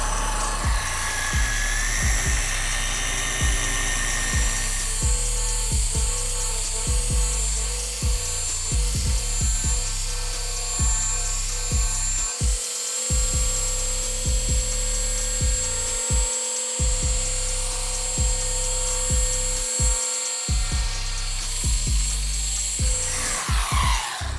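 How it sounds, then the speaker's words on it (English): Car buffer spinning a polishing pad across automotive paint, a loud, continuous high whine with a steady motor drone, sustained throughout with brief dips in load and no talking. "I like to get my pads started out so they're not dry cutting, leaving any kind of imperfections in the paint."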